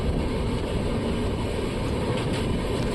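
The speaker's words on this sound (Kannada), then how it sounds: "ಕಲ್ಯಾಮ್ ರೈಲ್ವೆ ಸ್ಟೇಷನಲ್ಲಿ ಇದು ಹಾಲ್ಟ್ ಆಗಿದೆ, ಇಲ್ಲೇ ಹಾಲ್ಟ್ ಮಾಡಿದ್ದಾರೆ." A train stands halted at Kulem railway station in Goa, giving off a steady, even rumble and hiss that holds without change, with no voices.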